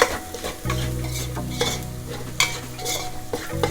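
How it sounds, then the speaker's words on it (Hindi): Onions for a Mangalore chicken curry (kori gassi) fry and are stirred in a pan, a steady close sizzle broken by repeated scraping stirs, with a low hum running underneath and no voices. "ऑनियन पूरा रेड होने तक अभी फ्राई करेंगे।"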